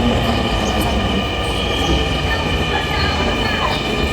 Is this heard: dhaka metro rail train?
yes